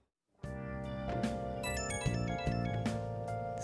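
Smartphone ringtone from the video game Persona 5 Royal, a bright melodic tune with layered synth tones that starts abruptly after a brief silence and plays steadily at even loudness, with no talking.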